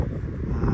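Wind gusting over the microphone on a sailing trip, a heavy low rumble that buffets steadily throughout.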